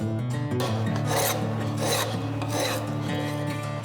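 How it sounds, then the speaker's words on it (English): A rasp files along a wooden handle being rounded out, a continuous coarse scraping with rhythmic back-and-forth strokes, close and loud with no talking. "I've got this piece of wood, a planer, and a rasp, and I'm just gonna round out this wood and make a handle"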